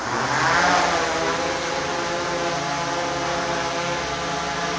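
A DJI Mavic 3 Pro drone lifting 1.5 kg of water bottles gives a loud, steady, close rotor whine and hum that swells slightly at takeoff and then holds constant.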